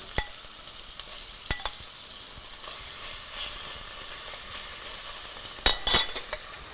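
Steady hiss of chicken sizzling in hot oil in a pot, with occasional sharp clinks of a utensil against the pot; close and fairly quiet, no voices.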